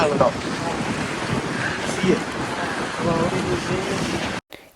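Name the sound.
strong wind on a hilltop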